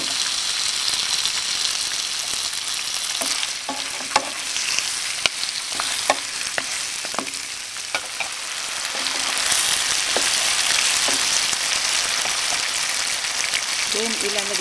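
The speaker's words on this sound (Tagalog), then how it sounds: "Ilalagay po natin itong ating pork pata." Pork pata sizzles with onion in a hot pan, a steady bright hiss broken by stirring clatters, with a person talking over it.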